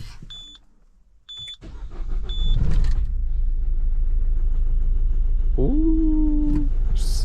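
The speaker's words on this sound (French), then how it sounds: "Hop, tentative de démarrage" After a few short electronic beeps, a Citroën C4 engine cranks and catches, settling into a steady close idle; a brief rising whine sounds partway through.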